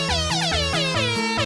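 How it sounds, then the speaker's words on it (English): A loud melodic air horn kit rigged as a car mod on an Acura Integra blares a rapid sequence of sliding multi-tone blasts, continuous and close for about a second and a half. "This is a bunch of air horns."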